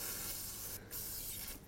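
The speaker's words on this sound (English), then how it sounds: "I'm going to spray it again real quick and see if I can get it to break free." Penetrant spray hisses from an aerosol can onto a stuck line fitting in a few close, steady bursts with short breaks, fairly quiet and with no voices.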